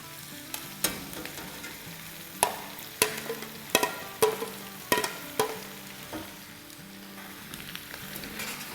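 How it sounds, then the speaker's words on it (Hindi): Sliced orange and red bell peppers and layered onion sautéing in a pan, a steady soft sizzle broken by sharp clinks and scrapes of stirring, close and fairly quiet with no talk. "वेजिटेबल को सॉटे होते हुए 1 मिनट हो गए"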